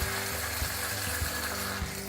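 Mutton frying in a pot for curry sizzles steadily and close, with water being poured in over the hot meat and oil, giving a continuous hiss with a few soft thumps; no one speaks.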